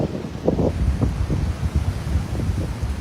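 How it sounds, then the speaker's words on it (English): Steady outdoor wind buffets the microphone near water, with low rumbling gusts that rise and fall across the whole stretch and no voices. "this is windy, yeah?"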